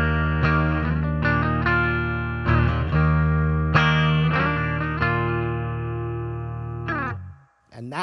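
Clean electric guitar playing the intro of a song, ringing picked notes and chords with effects, sustained and layered, loud and clear with no talk, fading near the end before a brief new note.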